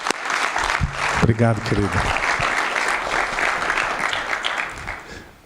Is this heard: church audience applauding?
yes